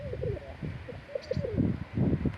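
Pigeons coo in soft, repeated low warbling phrases, close by, with faint background noise.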